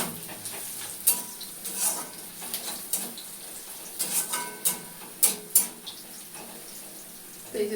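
Fish fries in a pan in a small home kitchen, with a soft sizzle beneath repeated sharp clinks and scrapes of a spatula against the pan.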